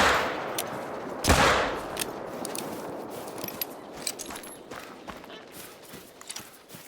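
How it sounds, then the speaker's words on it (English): Pistol shots are fired at water buffalo in the hunting game theHunter: Call of the Wild, one sharp loud report followed by fainter scattered pops and rustling footsteps as the player runs across open ground. "I'm going to employ my standard tactic of just chasing them down and shooting them with my pistol."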